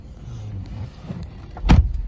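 A power-adjustable seat motor in a 2019 Lincoln Nautilus whirs as a faint, low hum, then a louder mechanical thunk near the end, heard alone in the cabin.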